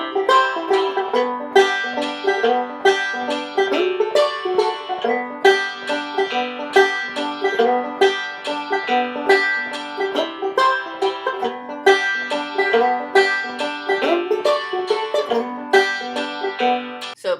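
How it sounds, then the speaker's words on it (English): Banjo picking a steady roll pattern in 3/4 time over a strummed backing track, bright plucked notes repeating in an even waltz-like cycle, loud and continuous with no talking. "which is just a roll pattern you can use for 3/4 time"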